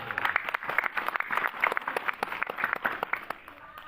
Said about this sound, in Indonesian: Tepuk tangan yang bareng.